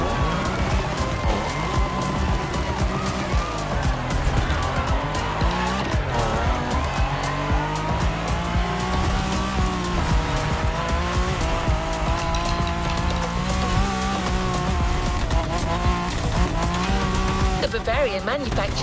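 A BMW Z4 M40i roadster races in The Crew Motorfest. Its engine revs rise and fall continuously under sustained tire squeal and skidding, loud and close throughout.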